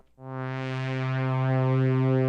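A sustained synthesizer pad chord from an Elektron Digitakt swells in and holds steady, rich and warm with many layered harmonics, alone with no voices.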